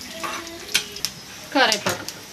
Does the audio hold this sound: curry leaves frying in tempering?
yes